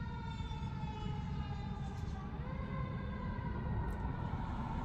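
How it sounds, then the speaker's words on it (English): A fire engine siren wails steadily as it passes by, loud and continuous with rising and falling tones over low traffic rumble, with no talking. "Fire engine going by, so I'm gonna hold off for a second because it's a little loud."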